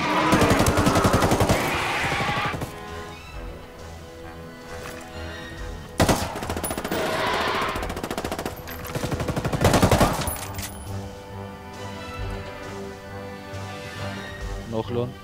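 Bursts of rapid automatic gunfire in the tactical shooter Ghost Recon Wildlands, fought in a co-op match against the Predator, crackle in several volleys separated by quieter stretches, with players talking over the action.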